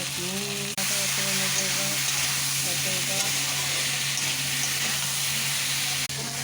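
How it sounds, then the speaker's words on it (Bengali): Tomato and potato hit hot oil with tempering spices in a pan, producing a loud, steady, hissing sizzle that runs throughout; a voice talks briefly at the start. "দিলাম ফোড়ন, টমেটো আর আলু একসাথে দিয়ে দিলাম"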